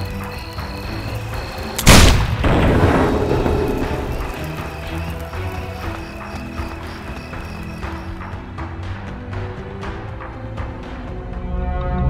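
A single heavy blast from an enhanced cannon in the Risen 2: Dark Waters game strikes a prison wall. It comes as one loud boom with a rumbling tail, then a low music-like bed continues with soft thuds.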